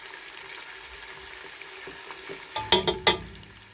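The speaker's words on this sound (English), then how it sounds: "I will allow it to fry for 10 seconds" Food fries in a pan while a meatball sauce is prepared: a low steady sizzle that is faint at first, then a few louder stirring scrapes and crackles near the end.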